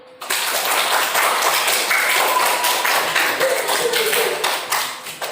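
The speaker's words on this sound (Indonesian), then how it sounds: "Beri aplaus untuk kelompok 1" A classroom group gives a round of applause for Group 1: dense, loud clapping starts abruptly and holds steady for about five seconds before thinning slightly at the end.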